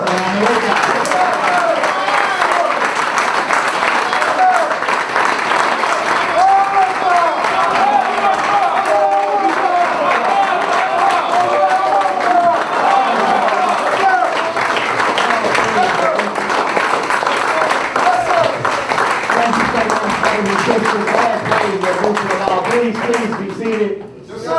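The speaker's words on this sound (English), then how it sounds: "Let's welcome him with a round of applause." Sustained audience applause in a hall for an arriving guest speaker, dense loud clapping with scattered cheers that carries on without a break for about twenty-five seconds.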